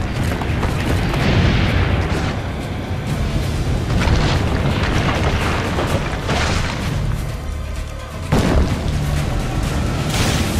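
Cannon fire in an Assassin's Creed Brotherhood battle, repeated heavy booms rolling over a dense, noisy background at close range, without speech.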